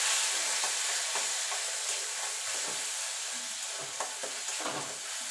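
Ground mustard paste hitting hot oil tempered with black cumin seeds, a loud, continuous close-up sizzle and hiss with occasional scraping stir sounds.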